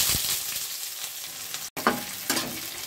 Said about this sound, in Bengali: পেঁয়াজটা একটু লালচে করে নেব।